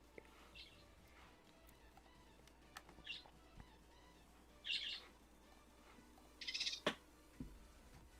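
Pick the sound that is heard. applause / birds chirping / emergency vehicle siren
birds chirping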